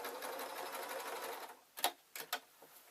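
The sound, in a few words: sewing machine stitching a skirt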